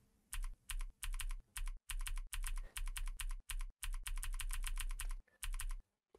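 Someone types a comment on a computer keyboard in quick close bursts of key clicks, with short pauses between runs, and no talking.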